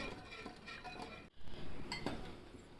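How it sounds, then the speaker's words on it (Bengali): Powdered milk and sugar are stirred in a pan to melt them, giving soft, close scraping and clinking of a utensil against the pan in a steady, gentle rhythm. "গুঁড়ো দুধ দিব, একটু নাড়বো এটা গলানোর জন্য। চিনি আর দুধটা একটু গলাবো।"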